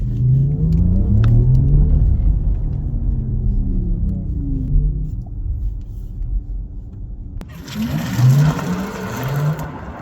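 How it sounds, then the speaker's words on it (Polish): A steady synthetic engine-like hum from the speakers of a Porsche Macan Turbo electric car rises in pitch as it speeds up, smooth and continuous, with road noise joining near the end. "słychać z głośników dźwięki przy przyspieszaniu"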